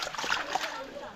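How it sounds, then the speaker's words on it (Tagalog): Sweet potatoes washed by hand in a basin of water, with brief splashing and sloshing close to the microphone while a person talks. "Maghugasan natin ng kamote."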